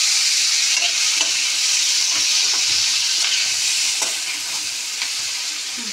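Vegetables with green chillies and tomato frying in a pan, a loud, steady crackling sizzle with repeated stirring scrapes throughout and no voices.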